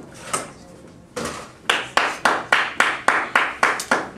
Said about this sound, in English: Oh, I was clapping.